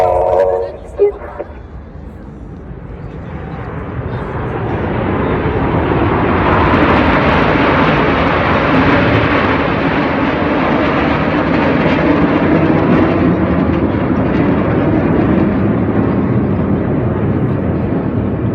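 RAF Red Arrows jets fly a formation display at Blackpool Airshow, a jet roar that rises from faint to a loud sustained rumble and holds as the aircraft pass, with crowd and commentary faintly underneath.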